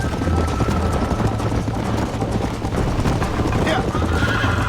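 A horse in the Western video game Red Dead Redemption whinnies and gallops, hooves clip-clopping steadily under loud continuous riding noise, with a player's voice calling out over it.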